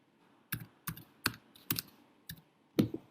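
A one-time passcode is typed on a computer keyboard, six separate crisp key clicks in an uneven rhythm, close and quiet against a near-silent background.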